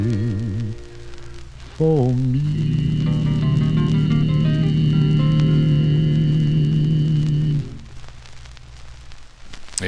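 A 1949 Decca 78 rpm record plays sung vocal harmony over sustained backing, with faint surface crackle, before the sound drops away near the end.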